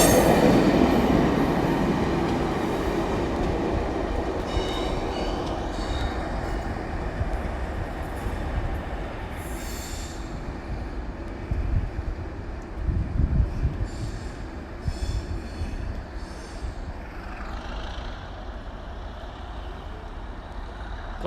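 A British Rail Class 37 diesel locomotive passing at Newport, heavy engine thrash and rumbling wagons and wheels, loud at first then a sustained rolling clatter with occasional squeals as it moves away, no talk.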